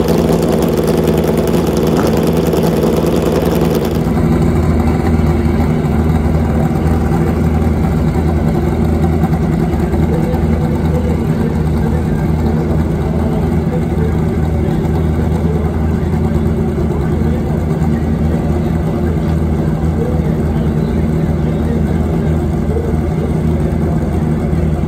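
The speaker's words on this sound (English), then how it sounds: "Motorcycles creeping into the staging beam." Pro Stock drag racing motorcycle engines idle and burble loudly and steadily, a continuous low rumble with a faint high whine, as bikes creep into the staging beam.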